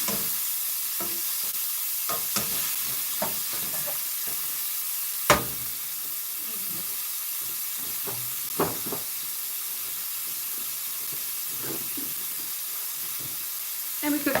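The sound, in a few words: ground beef frying in sausage grease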